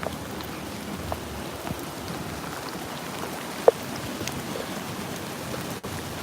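Steady rain falls in Mongkok, Hong Kong, at night with a soft, even hiss and occasional light drips, quiet and continuous with no voices.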